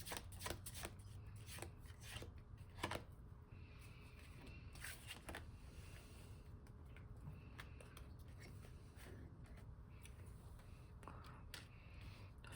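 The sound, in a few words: shuffling tarot cards to draw a final card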